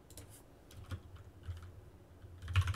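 Quick, light keystrokes on a computer keyboard tap out a short search query in uneven bursts, close and fairly quiet, with a louder flurry at the end.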